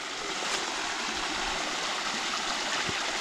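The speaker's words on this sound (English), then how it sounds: "look at this waterfall." Water rushing steadily over a small waterfall in the woods, a continuous broadband wash heard close by with no voices.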